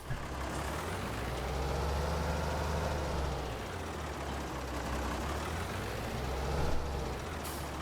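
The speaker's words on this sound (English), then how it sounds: "There's the tractor." A tractor in Farming Simulator 22 drives with a steady droning engine hum and mechanical whine, continuous and fairly loud with no speech over it.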